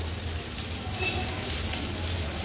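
Finely chopped onion, one large one, hisses and sizzles steadily in hot oil in a pan while cooking a fish curry, a continuous close frying sound with no talking.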